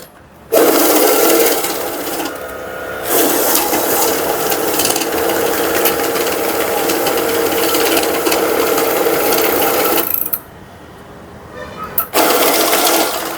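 A currency counting machine riffles rapidly through banknotes in long, loud mechanical whirring runs with brief pauses between batches, close by, with a voice speaking at times.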